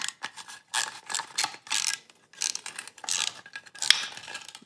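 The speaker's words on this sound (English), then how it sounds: "a couple of little 7/16 set screws just to take this little end piece off" Small 7/16 set screws being undone on the bumper overrider end piece of a 1967 Jaguar E-Type, giving close, irregular metallic clicks and ratcheting ticks in short bursts with brief pauses, no talking.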